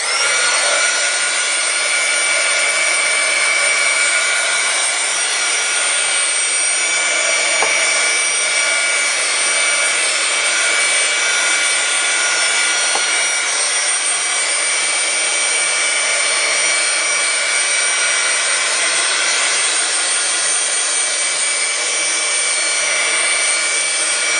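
A handheld dryer blows steadily and loudly to dry wet paint on a steampunk-style mixed media canvas, an unbroken close whooshing roar that runs the whole time without speech.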